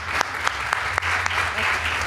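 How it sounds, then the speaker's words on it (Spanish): Steady applause from a crowd at a book presentation, dense clapping continuing throughout without a break. "no quería que te marcharas sin recibir nuestro aplauso y nuestro cariño"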